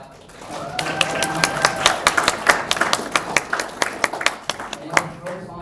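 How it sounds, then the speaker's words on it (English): An audience at a live pitch day event claps in a scattered round of sharp, distinct hand claps that builds and then thins out, heard from nearby with faint room noise. "Maybe we can clap."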